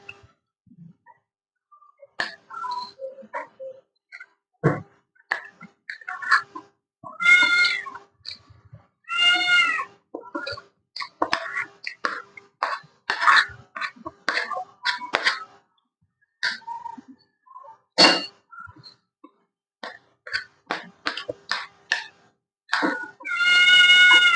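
A pet cat meows again and again at a home dinner table, giving short, clear, close-up cries separated by pauses, along with soft clinks and rustles from the meal in the background.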